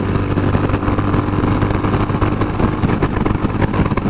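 A Honda CB350 RS motorcycle engine pulls steadily in third gear, a loud, continuous mid-pitched drone with a rumbling low end that holds close and constant throughout, with no talking.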